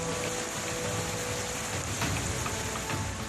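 Heavy monsoon rain in flood-hit Malkangiri, Odisha, a steady dense hiss of downpour filling the air without pause, with no voices.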